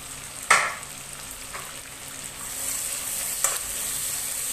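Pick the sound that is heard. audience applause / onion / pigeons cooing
onion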